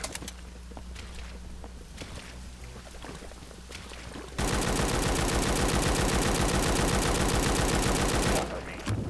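Rapid automatic gunfire in the war video game A.W.O.L. erupts midway and rattles on continuously and loudly for several seconds, following a stretch of quieter game ambience with scattered bursts.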